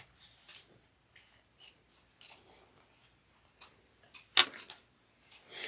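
Scissors snipping through the fabric seam allowance of a fold-over cross-body bag lining, heard as a sharp close cut near the middle among faint ticking snips.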